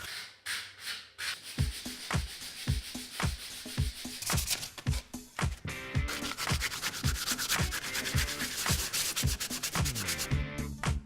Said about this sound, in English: so I'm going to give the whole piece a good sand down, make sure all the edges are nice and smooth